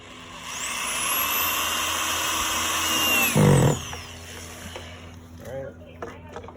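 A power drill drives screws to mount a TP-Link camera, with a rising whine that holds steady and a short loud grinding burst as the screw seats, then quiet handling noises as someone talks.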